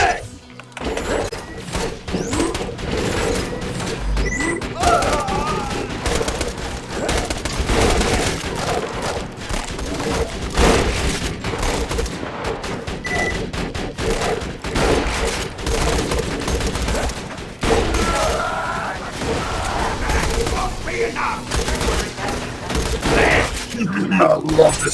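Dense, nearly continuous gunfire and explosions ring out in Borderlands 2 combat. The loud bursts run throughout, with game sounds and voices mixed in.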